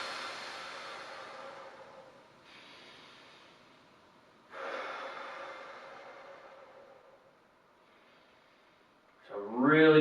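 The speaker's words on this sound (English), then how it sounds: "Big exhale." Long, breathy exhale during a hip and SI joint stretch that swells and fades over several seconds, heard near and fairly soft, with a short burst of voice at the end.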